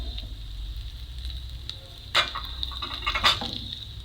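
Onions and bell peppers sizzle in a hot pan, a steady soft frying hiss with a couple of louder crackling bursts as the vegetables are stirred.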